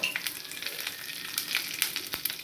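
Cumin, dried red chilies, mustard seeds and garlic cloves sizzle in hot oil for a tomato chutney. The frying is a soft, continuous crackle with scattered small pops, heard close and quiet, with no talking.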